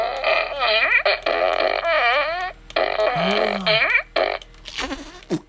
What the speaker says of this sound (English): farting time.